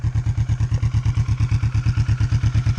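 A newly bought motorcycle idles steadily with a loud, even, throbbing pulse and light mechanical clatter, close to the machine, with no talk over it.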